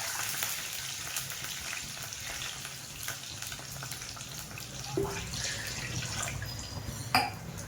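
Water poured into hot oil with cumin seeds sets off a continuous crackling sizzle and hiss, close and steady, with a few small clinks near the end and no speech.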